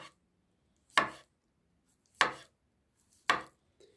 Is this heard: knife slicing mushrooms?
yes